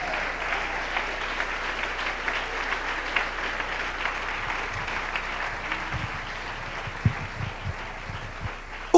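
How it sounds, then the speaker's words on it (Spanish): Steady applause from a large church congregation fills the whole stretch, a dense even patter with a few louder claps near the end. "Den un aplauso al Rey en esta mañana."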